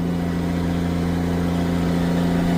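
A farm machine engine working during a silage barley baling job, droning steadily and loudly with strong low harmonics, held under load after a gear change, with no voices.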